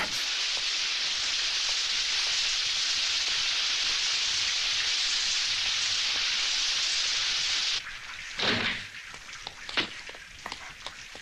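Dense, steady hiss of heavy rain pours for several seconds, then cuts to quieter background with a few scattered knocks and rustles.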